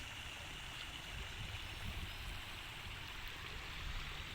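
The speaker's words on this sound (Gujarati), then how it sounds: "ધીમું ધીમું પાણી જાય છે." Water flows slowly at a dam, a steady, broad rushing wash that carries on without pause at moderate level, with no voices over it.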